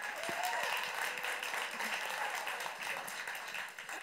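An audience applauds for a singer, a dense, sustained wash of clapping that holds steady throughout with a faint voice mixed in.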